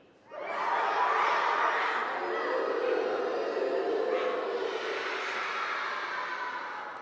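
Children's voices imitate puppies barking during a poetry slam, a loud, continuous crowd-like chorus of yips and chatter lasting several seconds.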